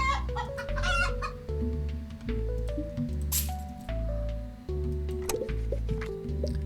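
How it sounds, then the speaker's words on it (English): Clucking chickens in the card game Terracards come through as repeated short cartoonish clucks and squishy blips layered over steady, looping game music, moderately loud throughout. "Now we're just starting to get random chickens as well."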